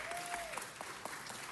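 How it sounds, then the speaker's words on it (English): Steady, moderately distant applause from an audience at a city council meeting, a continuous patter of many hands clapping without pause. "Give them a big round of applause."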